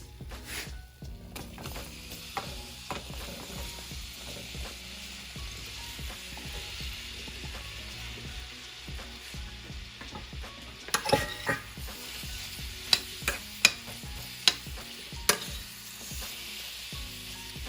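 Apples sizzle and fry in a pan with a whisked mixture, a steady close hiss broken by occasional sharp clinks of a utensil stirring against the pan, with no voices.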